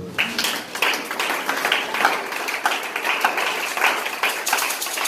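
A church congregation applauds, with dense, steady clapping from many hands that runs continuously and fairly loud, with no one speaking over it.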